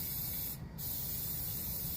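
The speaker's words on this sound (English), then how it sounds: "put something behind the tire so that only the area you want to spray is getting sprayed" An aerosol can sprays Plasti Dip onto a car tire, a close, steady, loud hiss running almost unbroken, with one brief dip in the middle.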